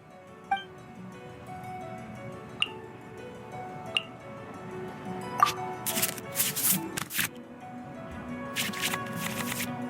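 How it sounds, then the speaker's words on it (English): Cards shuffle back into the draw pile in the Genshin Impact TCG card game: a few soft ticks, then bursts of crisp, papery card riffling, quiet and close, with no talk. "we can select any number of cards in our hand to shuffle back into the draw pile, and then draw the same number of new cards"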